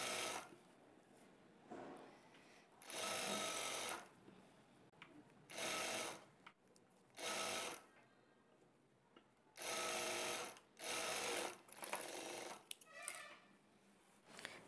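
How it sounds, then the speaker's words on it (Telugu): A sewing machine stitches a blouse lining along a half-inch margin, running in several short, fairly quiet bursts of rapid mechanical chatter with brief stops between them and no voices. "ఈ విధంగా 1/2 ఇంచ్ మార్జిన్తో ఒక స్టిచ్ వేసుకున్న తర్వాత"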